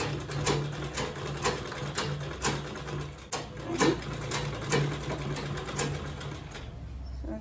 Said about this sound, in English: I'm going to fold like this, then sew on it